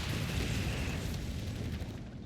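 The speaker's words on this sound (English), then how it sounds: "Mortar fire coming on in against that Aqua Ferret's position." Mortar fire in Company of Heroes 3 during a 4v4 match on Monte Cavo, with a dense, continuous rumble of booms and blasts that stays loud and steady throughout.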